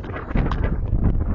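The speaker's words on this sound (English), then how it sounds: "because it's windy out here" Gusty outdoor wind buffeting the microphone, a steady loud low rumble with fluttering bursts over a short stretch, no voice heard.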